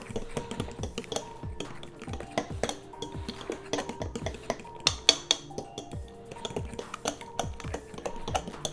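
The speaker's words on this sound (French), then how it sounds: "Donc là, il y a le citron, l'huile et le sirop d'érable et on mélange bien." Banana bread batter with lemon, oil and maple syrup being stirred in a bowl, a busy run of clicking and scraping utensil taps against the dish, close and continuous.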